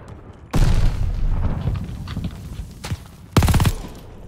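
A grenade goes off in Call of Duty Vanguard, a loud sudden blast with a rumbling tail, followed a few seconds later by a second sharp burst of fire.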